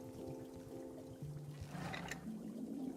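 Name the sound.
tea being poured out in video game Wanderstop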